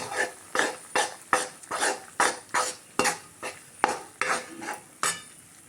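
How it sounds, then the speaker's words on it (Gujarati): Wheat flour being stirred and roasted in hot ghee in a metal pan for a Gujarati temple-style kada, with about a dozen evenly spaced scraping strokes of the spoon against the pan, close up and with no talking. "ઘી ગરમ થાય એટલે આપણે તેમાં ઝીણો ઘઉંનો લોટ નાખીશું ને તેને પાંચથી દસ મિનિટ માટે શેકવાનો છે"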